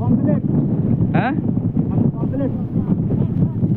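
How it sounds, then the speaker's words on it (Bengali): Strong wind buffets the microphone on a fishing boat on a Sundarbans river, a loud, continuous low rumble with the boat's noise and voices talking over it. "তবে কিন্তু নদীতে প্রচন্ড জোরে হাওয়া বাতাস বইছে।"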